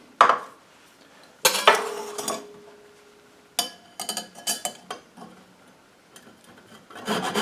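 Flour and other dry ingredients for a rhubarb custard pie stirred together in a bowl, giving bursts of scraping, rubbing and clinking from a utensil against the bowl, separated by quiet pauses.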